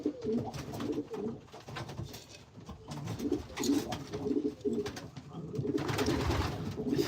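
Pigeons coo repeatedly in a loft, their low throaty calls rising and falling in overlapping bursts at close range, with soft rustling and shuffling between the calls and a steady busy background throughout.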